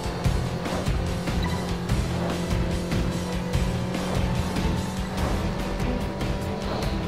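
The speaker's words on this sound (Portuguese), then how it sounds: "Já saiu driftando mesmo o carro." Car drifting in the racing game Test Drive Unlimited 2, a steady droning engine roar with tire squeal layered on top, loud and continuous throughout with no pauses.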